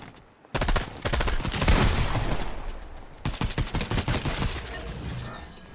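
Rapid bursts of gunfire in the Fortnite battle royale video game, dense volleys crackling close and loud, broken by a short pause and then resuming in quick overlapping bursts before fading into softer shots.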